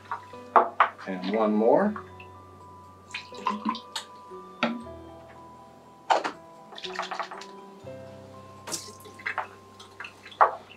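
Water quality sonde's turbidity sensor being rinsed with a 600 NTU calibration solution: brief splashing, dripping and clinking of containers, in short bursts with a person talking in between.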